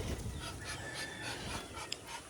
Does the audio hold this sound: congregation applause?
no